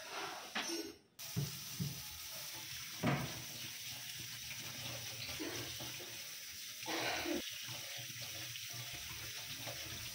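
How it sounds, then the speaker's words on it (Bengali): Flattened rice (poha) being washed under running tap water and drained, a steady close stream of water splashing into a bowl or sink with brief handling clunks and pauses, no talking. "এভাবে পরিষ্কার হওয়া পর্যন্ত আমি ফ্রেশ করে চিড়েটাকে ধুয়ে নিয়ে জল ঝরিয়ে নেব"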